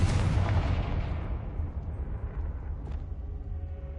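The Confringo blasting spell goes off in the video game Hogwarts Legacy, a loud, deep explosion that starts at full force and slowly rumbles away over several seconds.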